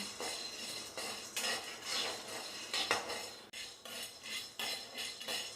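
Roasted gram (pottukadalai) stirred while dry-roasting in a pan, a spoon scraping and clinking against the metal in steady repeated strokes, with gram rattling, close and clear, no voices.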